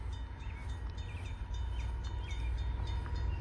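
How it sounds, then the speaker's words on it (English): A CSX freight train approaches heading south, a steady rumbling rail noise with faint squeals, continuous and moderately distant with no talk. "got a CSX coming south"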